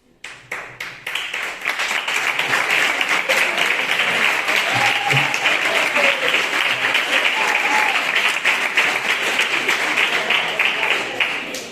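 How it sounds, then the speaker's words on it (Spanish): A handful of claps at the start swell into full, steady audience applause at a Spanish literary route presentation, continuing evenly and closely until it tapers near the end. "Supongo que ese aplauso es para ellas."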